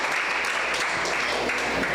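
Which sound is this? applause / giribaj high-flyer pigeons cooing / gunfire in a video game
applause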